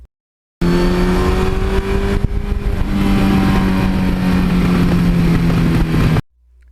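Two Suzuki GS1100E motorcycles from the 1980s ride together on a cool autumn day, their engines droning loud and close in a steady, rising growl that holds for several seconds before cutting off abruptly.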